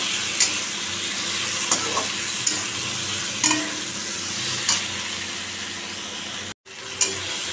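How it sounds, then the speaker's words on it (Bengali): Egg curry sautéing in a pan with onion, green chili, turmeric and salt, giving a steady soft sizzle with occasional stirring scrapes and clinks, close and fairly quiet. "দেখো আমি ডিমের কষা করছি এখন"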